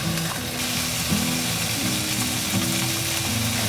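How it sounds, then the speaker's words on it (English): Bacon strips fry in a pan on the way to making okonomiyaki, with a loud, continuous sizzle close by and a low, steady humming tone running underneath. "So now can I put the bacons onto the pan?"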